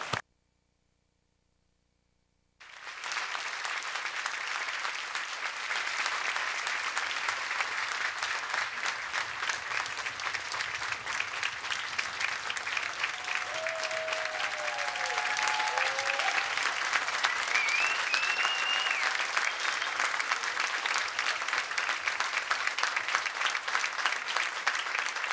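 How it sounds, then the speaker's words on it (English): A university convocation ceremony audience applauds the graduates in a long, dense, steady wave of clapping that begins after a moment of silence and builds slightly, filling a large hall with no speech over it. "join me in applauding each of you on the completion of"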